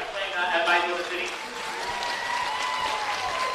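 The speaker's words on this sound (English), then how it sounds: "Round of applause for both teams here." Crowd applause for the two finalists, Floreat Athena and Bayswater City, after the 2019 NPL WA football final decided on penalties; steady clapping with a public-address voice talking over it throughout.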